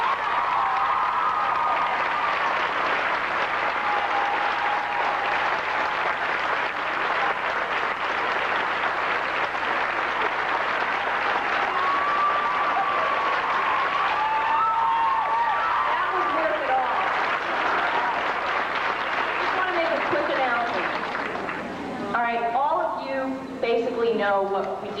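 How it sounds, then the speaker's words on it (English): A large outdoor crowd at a Hollywood Walk of Fame star ceremony for The Monkees claps and cheers in sustained, loud applause with whistles, fading toward the end as a voice begins talking. "So give yourselves a big round of applause."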